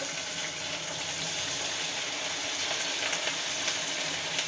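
Idli pieces frying in hot oil for chilli idli give a steady, dense hiss and crackle that fills the whole stretch at an even level, close to the pan, with no voices.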